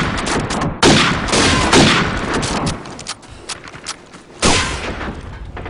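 Loud, close gunfire from a shooter video game rattles out in dense rapid bursts, fading briefly before another sharp volley erupts near the end.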